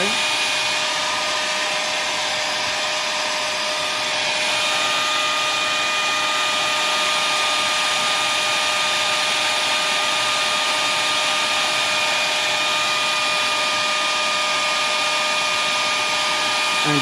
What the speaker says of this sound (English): now I'm going to dry the painting a little bit